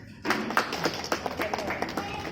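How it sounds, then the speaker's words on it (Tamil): Schoolchildren in a Karnataka school classroom clap together in a quick burst of uneven claps and taps after a brief quiet start, with voices mixed in. "எல்லாம் ஜோராக ஒரு முறை கைத்தட்டுங்க"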